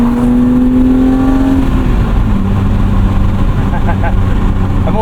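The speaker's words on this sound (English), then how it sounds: "BMW inline 6 that's been opened up a little bit." A 1998 BMW M3 E36 with a modified inline six and 250,000 miles revs loudly and close, its engine tone rising then easing and settling into a steady drone, with people talking over it.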